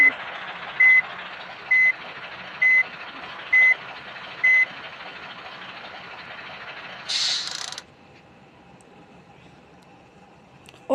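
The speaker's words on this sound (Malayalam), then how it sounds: "നമ്മുടെ ചെറുക്കന് ഇച്ചിരി റിവേഴ്സ് എടുത്ത് കയറ്റാൻ പാടാണ്" A reversing truck in Bus Simulator Indonesia sounds six evenly spaced beeps over a low engine drone. A short burst of air hiss follows, then the engine settles to a quieter idle.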